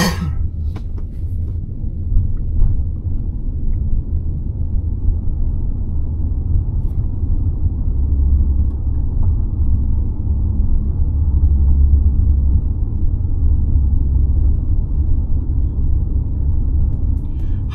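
Steady low rumble of road noise inside a new Subaru Forester cabin driving over a paver block road, a continuous droning hum throughout with no talking.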